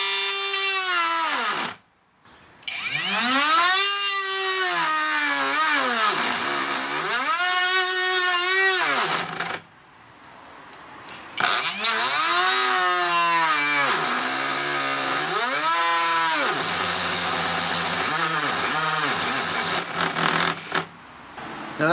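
Banggood 18V cordless router cutting into wood, loud whining motor that repeatedly rises and falls in pitch as it bites and bogs through the cut, with brief pauses between passes.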